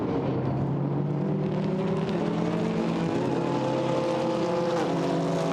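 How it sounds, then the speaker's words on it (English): GT4 race cars roar loudly and steadily through a chicane at the Paul Ricard circuit, engine notes layered and shifting in pitch as they brake and accelerate, with no talk over them. "Race leaders turn again through the chicane."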